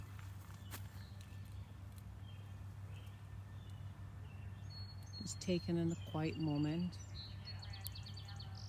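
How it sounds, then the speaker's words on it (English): Birds sing and chirp in short, clear phrases outdoors near a blossoming tree, over a steady low hum, with a person speaking softly beforehand. "You can hear the birds in the background."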